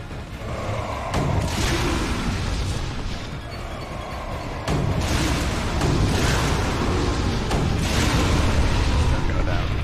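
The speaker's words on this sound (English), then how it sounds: "Nice fireworks." Booming fireworks burst during Resident Evil: The Umbrella Chronicles on the Umbrella's End stage, making a dense, rumbling run of deep explosions and pops with voices talking over them.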